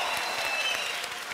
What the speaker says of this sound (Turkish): Sıla'nın ki diyenleri alkışlasın.